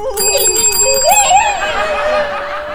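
A bright notification bell chime rings just after a subscribe reminder, with a quick cluster of ringing tones up front and a soft trailing ring beneath a light, voice-like warble.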